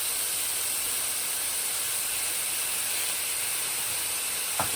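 Mushrooms stir-fried with ginger in a pan for a vegan dish give a steady, close hiss of frying throughout, with one soft knock near the end.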